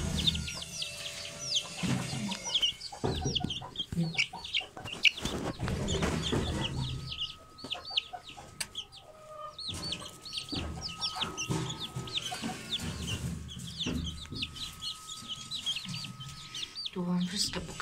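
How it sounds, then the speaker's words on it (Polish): Chickens cluck and chatter continuously nearby, many overlapping calls, with a person speaking quietly now and then. "Zaraz jeszcze weźmiemy kurczaki od Splash, bo chodzą po dworze."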